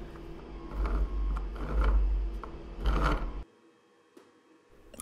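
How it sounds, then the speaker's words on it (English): 3D printed double helical gears in an RC vehicle gearbox run with a loud mechanical whir and grinding in bursts, then cut off to near silence, leaving faint clicks. "Now the gears have more clearance and they don't smash into each other so hard."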